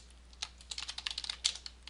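Quick, light keystrokes tap out a short burst of typing on a computer keyboard, close and fairly quiet, in an uneven run of clicks over about two seconds.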